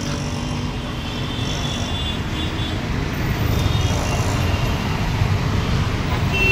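Heavy traffic on a crowded road by the Jagruti Nagar stop: a steady, dense roar of passing vehicles that swells slightly halfway through and never lets up.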